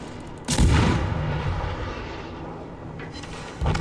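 Naval artillery fire in the warship battle game World of Warships: a loud, close boom opens with a broad rumbling tail that fades slowly, and a second heavy blast follows near the end.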